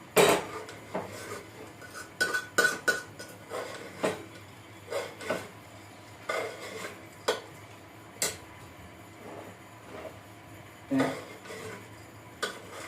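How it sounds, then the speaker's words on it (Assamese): Chicken pilaf stirred in a pot, with a metal spoon scraping and clanking against the sides in irregular knocks and rasps, close and alone with no talking. "এতিয়া মই ভালকৈ লাৰি আছোঁ ইয়াতে।"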